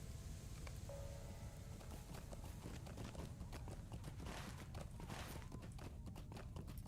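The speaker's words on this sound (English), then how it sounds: "The ability to ride a horse at level 1." Hooves clip-clop steadily as a horse is ridden in a fantasy online role-playing game, a quiet continuous trotting rhythm over a soft ambient background.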